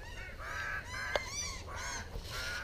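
Several geese or similar large fowl honk loudly and repeatedly at close range beside a bird feeder, with overlapping harsh calls and one sharp sudden burst partway through.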